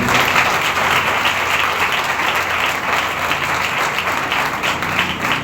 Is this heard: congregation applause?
yes